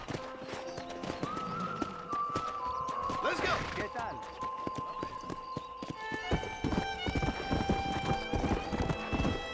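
A horse gallops in the PC game Red Dead Redemption, its rapid rhythmic hoofbeats steady and close, with a whinny and background game music while a voice talks over it.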